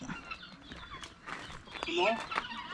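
Chickens cluck and squawk close by in short bursts, partly mixed with people talking nearby.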